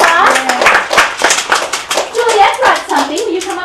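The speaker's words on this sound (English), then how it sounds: "Let's give him a round of applause." An audience claps briefly, mixed with children's voices and talking, the applause uneven and fairly close.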